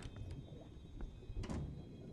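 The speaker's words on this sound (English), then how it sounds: "Heard a door go." A door opening or closing in Remothered: Tormented Fathers, heard as a few faint, brief knocks and scrapes with one sharper pair of clacks near the middle, over quiet background hum.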